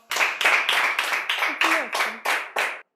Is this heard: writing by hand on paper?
no